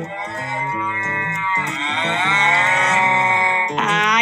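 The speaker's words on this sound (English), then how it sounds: "I know what animal that is. It's a cow." A cow moos repeatedly in a low, drawn-out and loud call, each bellow rising and wavering with no other sound around it.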